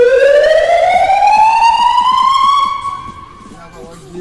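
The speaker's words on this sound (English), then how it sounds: "We have siren." A fire engine siren wails loud and close, its tone sweeping steadily upward over several seconds before the sound cuts away and fades.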